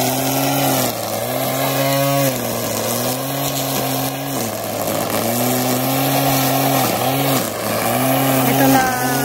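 A grass cutter runs steadily on a dragon fruit farm, its motor droning with pitch swells as it works through tall grass, loud and close throughout, while people talk over it.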